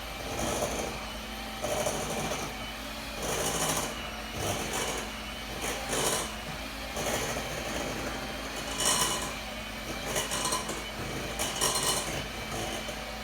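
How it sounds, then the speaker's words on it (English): An electric hand mixer beats cake batter in a home kitchen, giving a steady, close whirring drone that rises and dips slightly as the beaters move through the mix, with no talking. "this is a little bit harder to mix because I'm using like a hand mixer"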